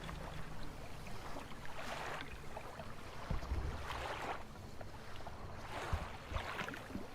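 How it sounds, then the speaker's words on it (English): Quiet, steady rumble of a boat moving through water in the video game Dredge, with soft rhythmic sloshing swells and a light breeze, no voices. "You hear that? There's a boat somewhere."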